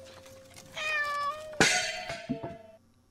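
A kitten meows in the horror video game Layers of Fear: Inheritance, a clear drawn-out mew followed by a louder, sharper cry and a short final meow, close and alone.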